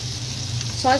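Chana masala spices and onion paste sizzling steadily in oil in a pan, with a brief rise as tomato sauce is added near the end; close and continuous.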